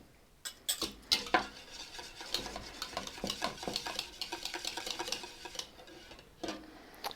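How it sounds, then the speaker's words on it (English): Rapid, busy clinking of a metal whisk against a pot as butter is beaten into a custard cream sauce, a quiet, continuous scraping rhythm with no talking. "Then I'm going to whisk in that butter."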